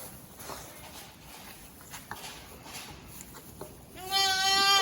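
A lamb in a kitchen garden gives one loud, wavering bleat near the end, close to the listener, after a few seconds of quiet outdoor rustling and light footsteps.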